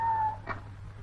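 A cat gives a single short meow, mid-distance, over a low steady hum and a fading electronic tone.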